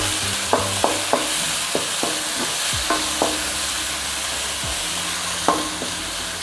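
Chopped tomatoes and curry leaves fry in a pan for brinjal gravy under a constant sizzle, with a spoon scraping and stirring in short, irregular strokes.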